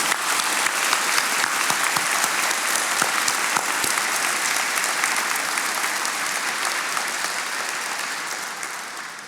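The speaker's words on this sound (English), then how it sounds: "let's take a moment to just give a round of applause to the families here" A graduation crowd at a Wharton Executive MBA ceremony applauds the families, a dense, steady wash of many hands clapping that stays loud throughout and eases slightly toward the end.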